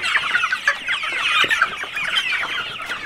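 Chickens being raised for sale at a small farm home in Uganda cluck steadily and overlap one another in a close, busy flock, with no talk.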